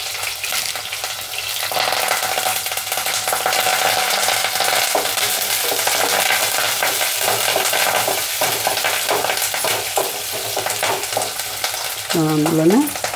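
Green chillies and curry leaves sizzle and crackle in hot oil in a pan while cooking a raw papaya and fresh coconut fry, a loud, steady frying hiss throughout with a little stirring.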